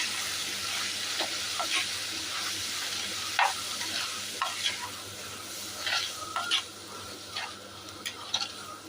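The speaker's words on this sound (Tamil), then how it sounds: "நான் ஒரு அஞ்சு ஸ்பூன் சேர்த்துருக்கேன் சேர்த்து இது நல்லா கிண்டி விட்டுக்கோம்" A spoon stirs spices in a pan for a dry fish curry, scraping and sizzling steadily with irregular clinks against the pan over a soft frying hiss.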